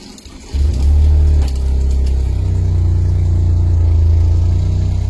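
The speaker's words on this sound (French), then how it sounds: "Et là, maintenant, on va essayer de démarrer la voiture." A car engine cranks and catches about half a second in, flaring into a loud close rev before settling into a steady, rumbling idle.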